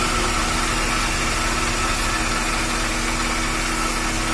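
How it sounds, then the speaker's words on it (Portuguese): A steady mechanical drone comes from the gearbox of an Audi A3, with the differential turning while the car is out of gear. The hum is continuous and unchanging, mixed with engine idle, and nobody talks. "só tem um barulho no câmbio, ó. Que é o diferencial rodando"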